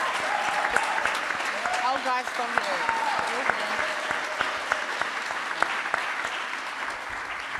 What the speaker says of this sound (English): we can really applaud her